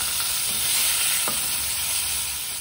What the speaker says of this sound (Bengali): এবার এতে আমি আলুটা ছেড়ে দিলাম